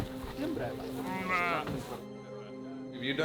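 Sheep and lambs on a farm bleat close by, several wavering calls overlapping loudly, while someone talks over them and music runs beneath.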